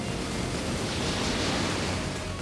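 A water dragon jutsu effect from the game Naruto x Boruto Ultimate Ninja Storm Connections: a loud, steady rushing roar of churning water, dense and unbroken for the whole stretch, with no voices.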